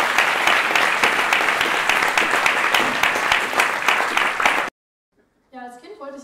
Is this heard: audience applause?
yes